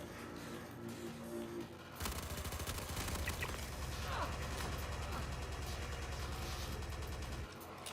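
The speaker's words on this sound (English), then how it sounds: "That gunfire. Almost sounds like a mounted turret or something" Rapid sustained gunfire resembling a mounted turret in the Star Citizen video game, starting abruptly after a quieter stretch and running as a dense, fast burst for several seconds before cutting off.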